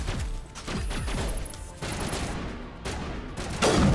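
Rapid bursts of gunfire from a gun in the video game Mass Effect, loud and close, with repeated shots rattling through the whole stretch and no talking over it.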